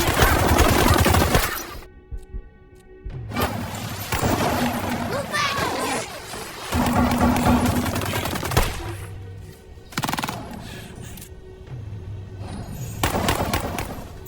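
Bursts of automatic gunfire and single shots from the 2024 war film Civil War crackle loudly in a firefight, broken by brief pauses, with a voice narrating over parts of it.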